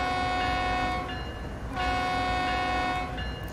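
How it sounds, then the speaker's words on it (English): An ES44 locomotive horn on the Cajon route in Train Sim World 3 gives a loud, sustained blast that dips briefly twice before holding on to the end, with no other sound competing. "Big honk on the horns."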